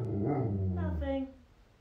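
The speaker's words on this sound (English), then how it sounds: "She just likes to hear herself bark." A dog gives a short, whiny bark-growl up close, rising then fading, with voices around it.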